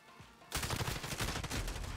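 Call of Duty: Modern Warfare gunfire erupts after a brief quiet moment into a dense, rapid burst of loud shots that continues to the end.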